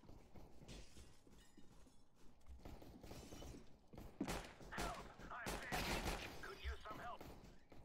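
Bursts of gunfire ring out in a Counter-Strike: Global Offensive match, rapid shots and crackling impacts piling up over a steady game background, growing denser toward the end.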